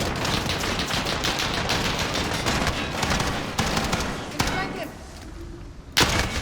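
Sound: machine gun fire in Call of Duty Modern Warfare video game

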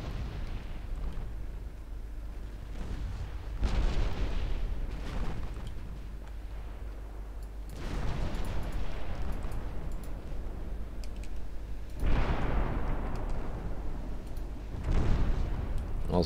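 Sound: naval gunfire from warships in Ultimate Admiral Dreadnoughts video game

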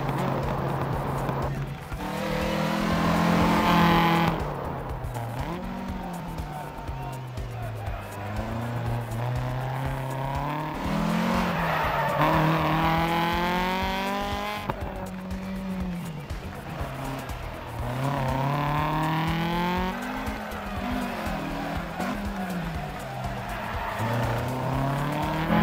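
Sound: Lancia Fulvia HF rally car driving in DiRT Rally video game

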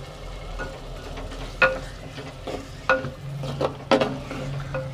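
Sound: spices and garlic frying in a pot for spicy crab

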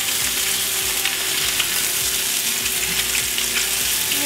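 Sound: catfish searing in a hot pan

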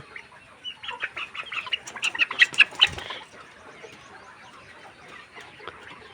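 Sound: chicken clucking

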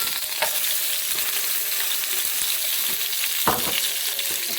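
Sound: bay leaves, cinnamon and cardamom sizzling in hot oil

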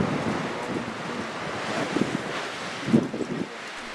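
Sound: gusty wind on African plains

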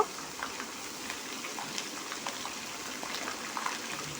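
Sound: frying ginger paste, mustard paste and cumin masala

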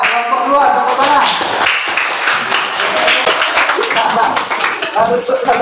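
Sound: classroom clapping for a student group

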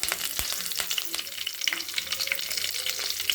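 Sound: mustard seeds, fenugreek, curry leaves frying in oil in kadai

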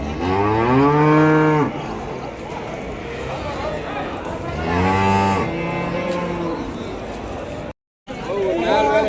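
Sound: cows mooing at Vaniyambadi cattle market

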